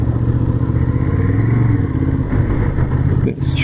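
Honda CB750 Hornet motorcycle engine on a test ride, a steady low drone under continuous wind noise with the rider talking over it throughout.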